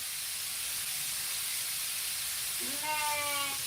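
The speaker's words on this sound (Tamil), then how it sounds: "அதான் விசில் வருது குக்கர் விசில் வருது" A pressure cooker releases a steady, loud hiss of steam that fills the clip, then a rising whistle tone cuts in near the end over the constant rush.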